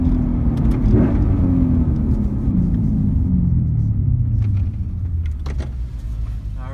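A Lexus IS F accelerates hard down a drag strip while racing a BMW 135i, its loud, close engine rumble climbing in pitch through the gears and holding a heavy, continuous roar.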